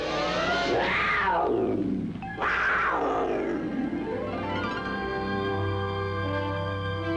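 A mountain lion roaring, two loud, drawn-out rising and falling roars close to the microphone, followed by a lingering lower growl.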